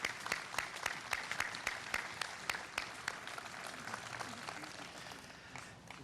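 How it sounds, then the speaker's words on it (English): Audience at a Murfreesboro city bicentennial kickoff event breaking into applause, a dense burst of clapping from a crowd that gradually fades over several seconds, heard from a distance at modest loudness. "Let's give Bart and Richard another round of applause."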